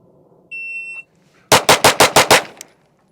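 A shot timer's beep is followed by six rapid, loud pistol shots from a Staccato HD, evenly spaced in a quick string, then a faint click.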